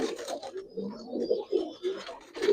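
A pair of mosaldom pigeons coo in short, throaty bursts, close and moderately loud, repeating several times in quick succession without any speech.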